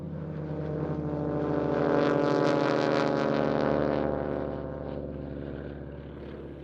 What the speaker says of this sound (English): Here are 3 biplanes of Scandinavian airshows, with their Grumman AGCAT in the lead.